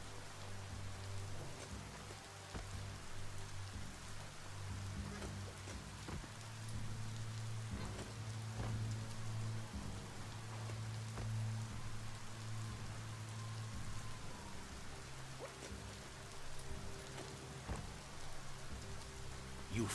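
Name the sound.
rain falling in the video game Biomutant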